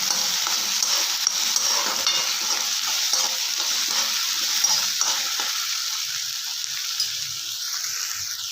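Chopped chili and tomato fry in a pan with a steady, close hiss, broken by scraping stirs throughout; no voices.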